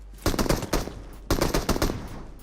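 Automatic gunfire in a shooter video game, two quick bursts of rapid rattling shots, close and loud, separated by a brief pause.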